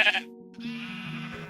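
A yellow sheep in Minecraft gives a single short, close bleat, and a soft tonal hum runs underneath it.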